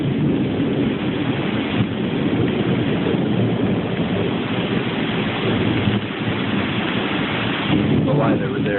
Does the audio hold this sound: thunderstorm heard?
yes